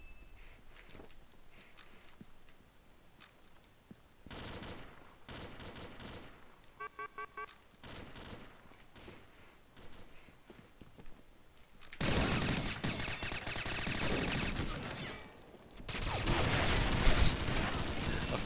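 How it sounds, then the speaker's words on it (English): Machine gun fire in the shooter game Combat Arms, with scattered single shots early, then rapid rattling bursts and long sustained automatic fusillades that grow louder toward the end, under someone talking. "And of course, he pulls out the machine gun of all things."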